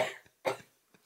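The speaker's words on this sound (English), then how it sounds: "you've made me laugh so hard I cough" A person coughs twice from laughing, first a strong close cough and then a second one, with a faint trailing breath afterward.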